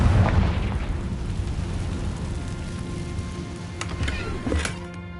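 A Confringo blasting spell in Hogwarts Legacy goes off with a heavy low boom at the start, then a long rumbling, crackling decay like debris raining down, with a few small sharp pops late on.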